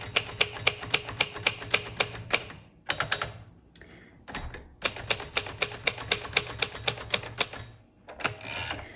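A 1968 Royal Custom II manual typewriter in original red clacks out rapid, evenly paced keystrokes, with brief pauses and a carriage return mid-run, close and clear without speech.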